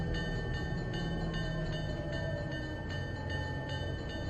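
Steady diesel drone of an F7 locomotive in the Trainz simulator, idling or running under load with a constant low rumble and faint regular clicks repeating about every half second, heard alone with no voices.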